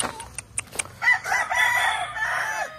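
Gamecock roosters at a farm's cockfighting pen let out a loud, drawn-out crow up close, preceded by a few short clucks and scattered sharp calls, with faint low rumbling behind.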